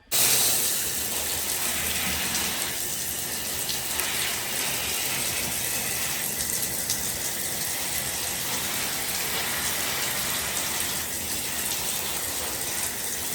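Water gushes steadily while houseplants are watered indoors, a continuous loud splashing rush that starts abruptly and holds without a break.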